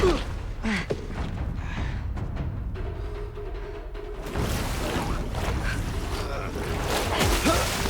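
Water splashing from an episode of the Netflix Avatar series, heard as a broad rushing wash that swells louder halfway through, with faint voices in the background.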